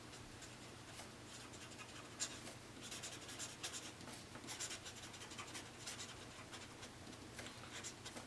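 Steady scratching of a marker or chalk writing on a board during a calculus lesson, a continuous rubbing texture with short strokes and taps, close and moderately quiet, with no talking.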